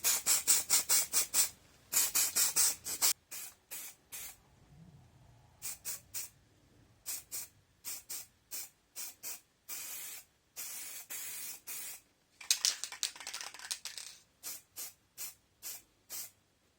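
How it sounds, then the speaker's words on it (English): Primer paint sprayed from an aerosol can onto fake cosplay chains, heard as a long series of short hissing bursts with brief pauses between them, close and fairly loud, with no talking. "this is some primer"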